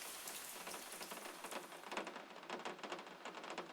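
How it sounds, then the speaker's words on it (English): Steady rain falls and patters on a surface, a soft, continuous hiss dotted with close, crisp drop taps that grow slightly busier toward the end, with no voices. "The rain continued the whole evening without intermission."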